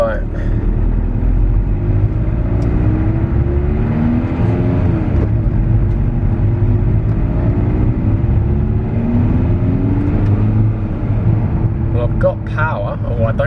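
A Skoda Octavia vRS drives along a driveway, its engine a steady loud drone and whir with rising revs heard from inside the car, while a person talks over it.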